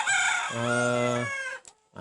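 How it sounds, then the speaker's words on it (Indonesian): A rooster gives one loud, close crow lasting over a second, the long drawn-out call ending abruptly, followed by a brief noise. "ayam ini lagi."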